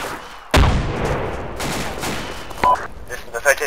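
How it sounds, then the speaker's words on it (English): Enemy gunfire in a tactical military shooter game: a loud sudden burst of shots followed by a rolling echo and a few further sharp cracks, with fainter scattered fire near the end. "No, that's definitely enemy fire."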